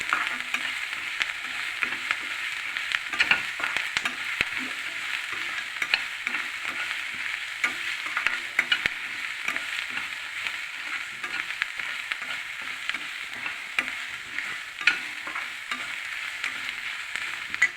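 Curry leaves, garlic and torn dried red chilies frying in hot oil, a steady crackling sizzle with frequent small pops and occasional stirring clinks, running alone throughout without any talk.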